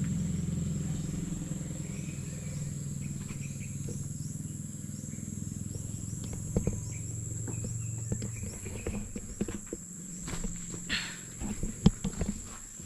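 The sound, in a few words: motorcycle passing by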